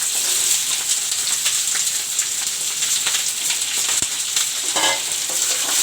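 Chopped kundru (ivy gourd) frying in a pan with well-browned onions, a dense, steady sizzle and crackle up close, broken by a few light clinks of stirring.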